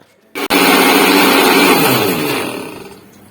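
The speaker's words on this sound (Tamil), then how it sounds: "அரைக்க வேண்டிய மசாலாவை அரைச்சிருங்க." A mixer grinder whirs loudly while grinding masala paste for channa masala. After a brief click it starts and runs as a steady high whine, then gradually winds down near the end.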